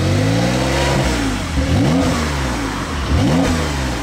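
A new Porsche sports car revs hard and accelerates away, its loud engine note sweeping up through several gear changes with no talk over it.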